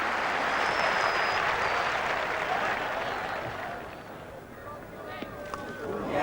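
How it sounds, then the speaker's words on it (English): A cricket crowd applauds a hundred partnership at a Test match, a broad wash of clapping and murmur that swells loudly at first, eases off midway, then picks up again near the end, with a few sharp individual claps and calls over it. "in the background, the crowd rises for the 3-figure partnership"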